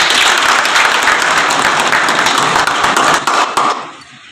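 Audience applause for a newly named district president of Aurangabad at a human rights organization gathering, dense and loud clapping throughout, tapering off in the final half second.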